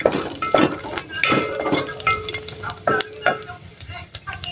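Garlic and onion being sautéed in hot oil in a pan for a patola and fried dish, with scraping stirs and clinking utensils over a steady sizzle, plus a brief faint voice.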